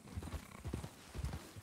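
Horse hooves clip-clop on the ground at a riding area, several uneven clusters of hoofbeats close by, moderately quiet with no talk over them.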